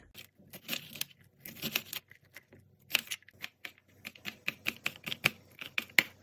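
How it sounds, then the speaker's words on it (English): A knife dices onion and chops garlic on a cutting board in quick, irregular taps and bursts, crisp and close, with brief pauses between runs of cuts. "Now I'm going to do some prep by dicing the onion and chopping the garlic."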